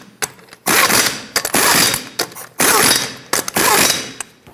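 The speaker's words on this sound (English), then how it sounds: "in a cross pattern, we're going to torque them to 83 foot-pounds" Wheel lug nuts on a 2012-2018 Nissan Altima tightened in a cross pattern to 83 foot-pounds, heard as four long loud ratcheting bursts separated by short pauses and sharp clicks.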